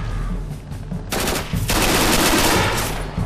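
Machine gun fire in Red Orchestra bursts loud and close: a rapid stream of shots running for about two seconds after a quieter lead-in.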